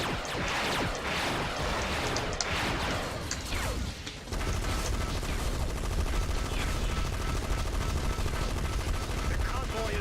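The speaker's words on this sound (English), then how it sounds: "The convoy is under fire." Sustained gunfire pours onto a convoy in the video game Gunmetal, dense rattling bursts that dip for a moment and then resume at full, loud intensity.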